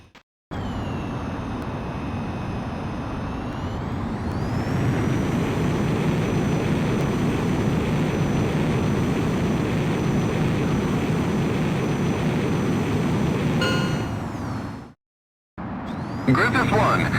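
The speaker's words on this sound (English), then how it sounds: "Griffith 1, you are cleared for takeoff." A fighter jet in the video game Ace Combat X takes off. A loud, steady engine roar swells and holds, then cuts off abruptly near the end before a brief burst resumes.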